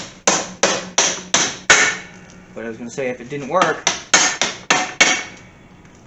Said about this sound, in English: we're gonna pound it out from this side. Now, I'm gonna gently use this hammer.